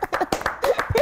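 A short burst of several people clapping their hands, quick irregular claps close by.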